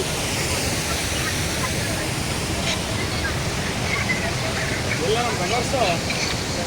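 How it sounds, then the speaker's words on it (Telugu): Hogenakkal waterfalls in Karnataka roar with a steady, dense rush of falling water, constant and close, with faint voices mixed into the wash. "ఇదిగో మన వెనకలే వాటర్ ఫాల్స్."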